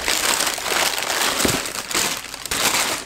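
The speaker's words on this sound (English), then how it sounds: "Underneath that, they give us some white tissue paper." White tissue paper inside a Nike Jordan 1 Low Travis Scott sneaker box crinkles loudly and continuously at close range, a steady papery rustle with a few sharper crunches.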